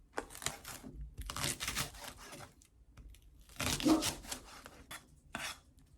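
Onion and green onion being chopped on a board for stir-fried squid, with close, loud bursts of knife strikes coming in uneven clusters and short pauses between them.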